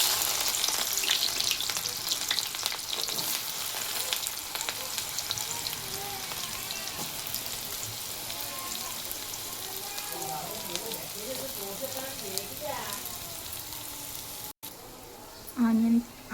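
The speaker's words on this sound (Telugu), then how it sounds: "ఆయిల్ అయితే కాగిపోయిందండి ఇప్పుడైతే ఆనియన్స్ వేసేసుకున్నాం" Sliced onions frying in hot oil for an ivy gourd and egg fry, a steady close sizzle and crackle running throughout, with brief stirring scrapes near the end.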